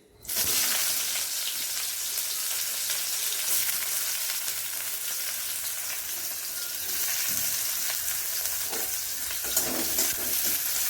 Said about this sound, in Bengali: প্রথমে পেঁয়াজ কুচি দিয়ে দেবো। তেলটা গরম হয়ে গেছে।